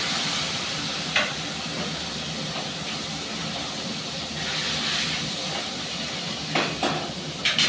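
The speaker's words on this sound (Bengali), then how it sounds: "মাছগুলো বেশ আমি একটু লাল লাল করে ভাজা করবো।" Several fish fry in hot oil in a pan, giving a steady broad sizzle with occasional sharper crackles and spits, heard alone and fairly close.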